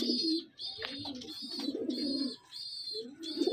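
Pet pigeons give repeated soft, throaty coos in short bursts separated by brief pauses, near and clear over a thin high background tone.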